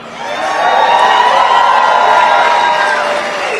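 Large crowd at a Republican political rally in Nevada cheering and whooping loudly, the roar rising quickly, holding steady and easing slightly at the end.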